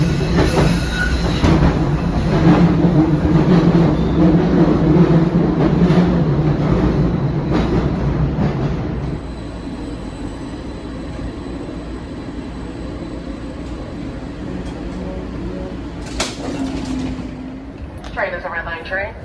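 A Red Line light rail train rumbles steadily along the tracks, loud at first, then quieter as it continues, with faint squealing from the wheels near the end.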